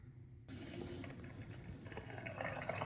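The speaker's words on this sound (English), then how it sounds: "Let's fill the water." Water poured into the reservoir of an automatic soap dispenser over thick liquid soap, with a continuous close filling gurgle that starts abruptly after a brief silence and grows slightly fuller toward the end.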